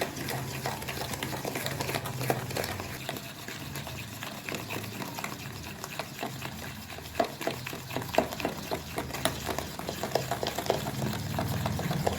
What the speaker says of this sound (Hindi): दही, चीनी और ऑयल, घी, बटर, इन तीनों को पहले हम मिक्स कर लेते हैं।